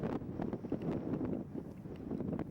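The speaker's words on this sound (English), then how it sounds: "It's a very windy day" Steady low, buffeting rumble of wind blowing across the microphone at a cricket match, continuous and fairly faint, with no voices.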